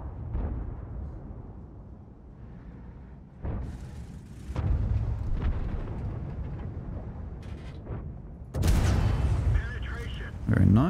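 Tank cannon shots ring out in World of Tanks while firing at a Type 61, several heavy booming blasts with a loud one near the end, mixed under ongoing game noise and a talking voice.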